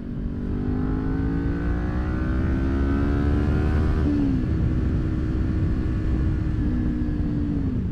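Kawasaki Ninja 400 motorcycle accelerating hard to overtake a car, its engine note climbing steadily in pitch for several seconds, briefly dropping at a gear change, then rising again amid steady wind rumble, loud and close.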